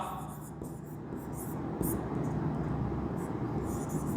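Pen scratching steadily across paper while a maths solution is written out for a Class 10 algebra problem, faint and continuous with no voice.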